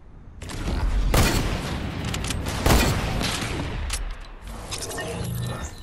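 Gunfire in the Fortnite video game rattles in loud, dense bursts and booms almost without a break, close and harsh.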